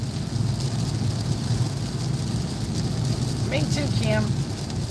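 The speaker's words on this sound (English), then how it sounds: "It was raining so hard and so much" Heavy rain drums steadily on a car while driving home in a downpour, a dense continuous wash throughout, with a person speaking briefly over it.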